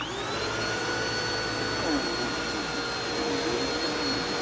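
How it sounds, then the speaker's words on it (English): A Bissell CleanView vacuum with a slipping belt runs close and loud with a steady high whine and a shifting pitch that slowly falls and rises, with no talk over it. "if you have one of these Bissell CleanView vacuums, does not matter if it's a swivel or a regular non-swivel machine, and it does this"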